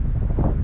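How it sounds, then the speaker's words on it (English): Steady low wind buffeting a microphone outdoors at a cemetery in Grass Valley, Oregon, a continuous rumbling roar with gusty swells, no voices. "It is windy and very cold out here in the middle of nowhere."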